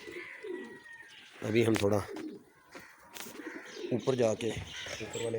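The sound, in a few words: pigeons cooing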